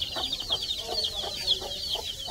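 Chickens cluck and peep in short repeated calls close by, a busy steady chorus from a flock with newly hatched chicks on a farm, no talk over it.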